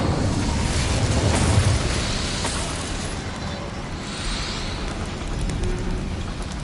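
Incendio fire spell cast in Hogwarts Legacy: a loud, sustained roaring whoosh of flame with a heavier burst near the start, then a steady crackling rumble throughout.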